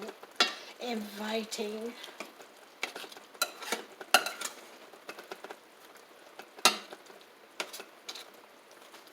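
A spoon stirs pinto beans cooking in a pot, giving intermittent scrapes and clinks close by, with someone speaking briefly between them.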